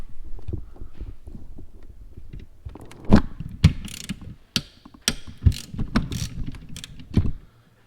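Metal clicks and scrapes as 10mm bolts with washers are hand-threaded into the valve cover of a 3.4L 5VZ-FE third-generation Toyota 4Runner, a scattered series of sharp, close ticks and rattles with no talking.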